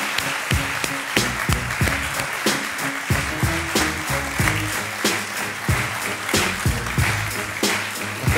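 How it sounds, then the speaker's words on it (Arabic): Warm studio audience applause on a Moroccan TV talk show, many hands clapping in a loud, steady patter with irregular sharp claps standing out, close and sustained throughout. "تصفيقة حارة على ابتسام باتما"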